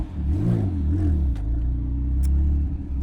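A 1000hp 9ff Porsche Turbo at the Nürburgring rumbles loudly and steadily close by, its engine droning with a slight rise and fall in revs throughout, with no talking over it.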